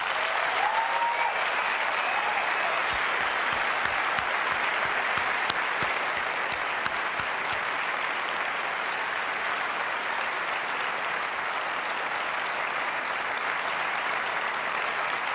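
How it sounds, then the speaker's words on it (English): Long, sustained audience applause in a large keynote hall at Apple WWDC 2009, a dense, even roar of clapping that holds steady from start to finish. "So please help me give them a round of applause."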